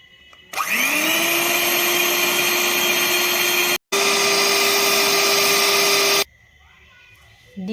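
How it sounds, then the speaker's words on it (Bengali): A hand blender beats eggs for sponge cake batter, a loud steady motor whine that starts abruptly, cuts out briefly midway, then runs again before stopping, with no talking. "এটা আমি প্রথমে হ্যান্ড ব্লেন্ডারের মধ্যে দিয়ে ফেটিয়ে নেব।"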